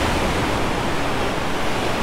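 A steady, close roar of stormy sea surf churns and breaks inside a coastal grotto at Fiolent, the broadband wash of water continuous and loud throughout without any talking.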